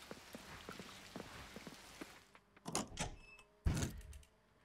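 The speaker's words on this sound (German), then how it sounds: "und es regnet" Light rain patters steadily in the farming video game Coral Island, a faint, even hiss with scattered drops. It is joined by a few louder clunks and soft thuds near the end.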